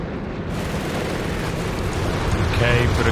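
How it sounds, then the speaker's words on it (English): Carpet bombing in a Company of Heroes 3 match: a dense, continuous roar of overlapping explosions rumbling loudly throughout, with a faint higher crackle near the end. "Bit of carpet bombing"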